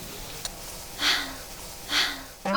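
Breathing during a quiet, thoughtful pause: two soft, breathy exhalations about a second apart, close and gentle, with a faint voice coming in at the end.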